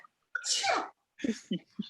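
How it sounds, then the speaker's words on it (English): A single loud sneeze bursts out close by, preceded by a short intake, then followed by a few brief, quieter vocal sounds after a moment of silence. "you're all about to sneeze"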